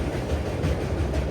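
A train, the Anakapalle to Secunderabad special fare express 07056, crosses the Kovvur road-cum-railway bridge at Rajahmundry, giving a loud, continuous rolling rumble heard from close by.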